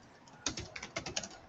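Quick bursts of typing on a computer keyboard, about a dozen close, crisp key clicks in an uneven rhythm, with no voices.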